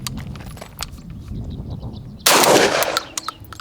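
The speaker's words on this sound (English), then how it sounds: "Let me close the bolt in chamber 2." A Benelli M3 dual-mode shotgun is handled with a few light metallic clicks, then its bolt slams shut to chamber a shell with a sharp, loud clack that rings briefly.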